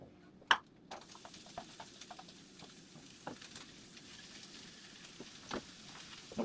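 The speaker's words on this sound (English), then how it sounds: "I'm going to throw these in to the pot before the oil is hot" Garlic, bell pepper, scotch bonnet and scallion sizzle quietly in a pot of not-yet-hot oil, a soft steady crackle broken by a few sharper clicks and stirring knocks, close and without talk.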